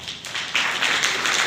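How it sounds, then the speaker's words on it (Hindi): An audience at a weekly satsang gives a loud burst of hand clapping, dense and steady for a second and a half, with no one speaking over it. "अपने लिए जोरदार ताली बजाओ एक बार"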